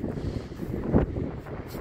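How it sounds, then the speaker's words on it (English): Gusty wind buffets the microphone, a low rumbling roar swelling briefly near the middle, with no talking. "Oh, it's so windy."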